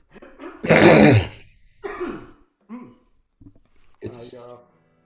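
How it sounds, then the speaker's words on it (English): A loud, rough throat clearing up close, followed by several shorter, quieter throaty rasps and hums with brief pauses between them. "I'm gonna clear my throat."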